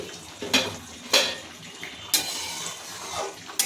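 The lid of a cooking pot coming off and knocking against it while brinjal, stalks and fish cook for a light curry, a few distinct metallic clinks and scrapes over a faint simmer.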